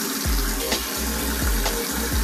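Warm water runs steadily from a tap during a reborn baby doll's shampoo, with a continuous rushing flow and a few soft splashes close by, no voices.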